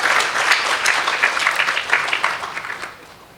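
An audience at a Hanuman Jayanti katha gathering in Louisville breaks into sustained applause, many hands clapping densely and steadily before tapering off toward the end.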